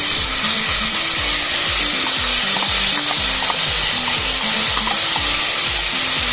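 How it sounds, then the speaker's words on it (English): Finely chopped onion sautés in oil in a cooking vessel, giving a loud, continuous sizzle with a steady rhythmic scraping as it is stirred, heard close and alone. "we just saute the onions till it is nice and soft and translucent"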